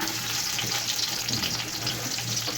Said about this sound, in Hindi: ऑयल हमारा गर्म हो चुका है, अब हम प्याज भून लेंगे।